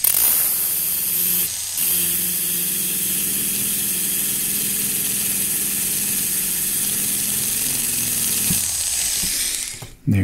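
A power grinder or rotary tool steadily sharpens the tip of a wax carving tool into an edge, a continuous loud whirring grind that runs almost unbroken for about nine seconds before winding down, with no talking.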